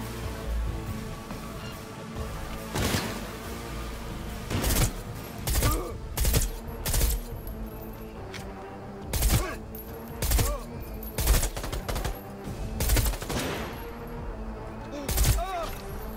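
Gunfire in the shooter game Cyberpunk 2077: loud, sharp shots and short bursts repeating at irregular intervals over a steady background hum, with occasional voice faintly underneath.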